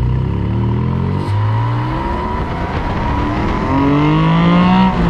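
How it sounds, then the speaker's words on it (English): A loud, deep Porsche 718 Spyder exhaust with open valves revs and accelerates through rising gear pulls, throaty and close, with a brief shift dip partway through. "let's open the exhaust. There it opens up and it gets a little deeper"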